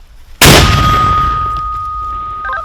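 One sudden, loud Ukrainian army mortar shot bursts out on a front line with regular artillery fire, followed by a long fading roar and a faint metallic ringing tone.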